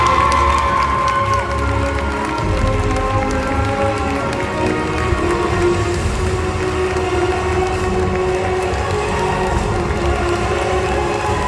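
A crowd at the Miss Fashion 2019 pageant cheers and applauds the winners, a loud continuous roar of clapping and shouting that stays dense and sustained throughout, with tonal sounds faintly underneath.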